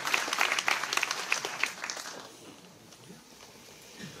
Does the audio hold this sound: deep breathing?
no